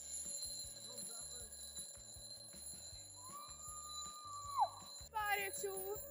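An electronic alarm clock rings with steady high beeping tones through a game challenge, faint and continuous, with a rising chirp near the end and a brief burst of bright ringing as talk carries on underneath.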